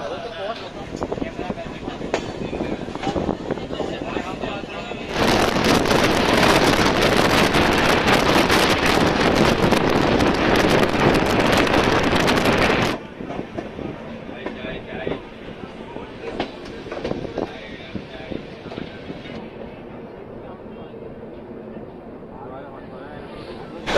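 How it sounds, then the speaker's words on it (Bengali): The Himgiri Express runs on after leaving Varanasi with a continuous rumble of wheels and carriages. A loud, wind-buffeted stretch in the middle is followed by a quieter, rattling roll. "14005 যে এখন আমাদের ট্রেন বারাণসী ছেড়ে যাচ্ছে।"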